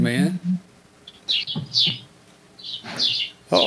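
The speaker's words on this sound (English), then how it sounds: "I hear birds, and there's birds back here." Birds chirp in short bright bursts behind someone talking over an amateur radio link, the calls faint and intermittent, a few quick tweets spaced across the moment.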